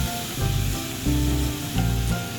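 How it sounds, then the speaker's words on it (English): Diced tomatoes sizzle steadily in garlic and butter in a hot frying pan, with low crackling surges that rise and fall every second or so, close and fairly loud. "Put that into the frying pan, and we are going to saute it into the garlic and the butter"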